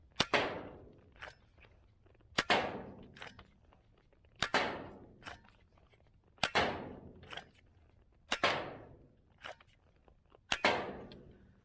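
A toy 357 Magnum replica revolver blaster loaded with suction cup darts fires six times at an even pace about two seconds apart; each shot is a sharp, close snap with a short decaying whoosh.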